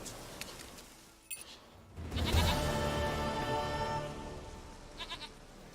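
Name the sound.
goat bleating, from the video game The Witcher 3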